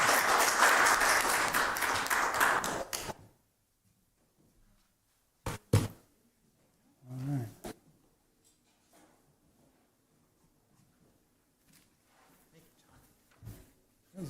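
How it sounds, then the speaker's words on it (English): Audience applause closes a spring lecture on preserving Redoubt Lake: a few seconds of dense clapping, followed by quiet with scattered thumps and knocks. "Please give John Tillinghast another round of applause."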